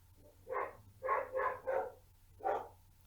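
A female dog barks in the background indoors at a lodge, with five short, boisterous woofs in two bursts at moderate distance and no talk over them.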